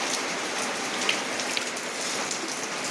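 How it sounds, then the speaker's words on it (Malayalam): Heavy rain pours down without a break, a dense, even hiss of drops hitting surfaces close by, with no voices. "ഭയങ്കര മഴയാണ്, തോരുന്നേ ഇല്ല മഴ"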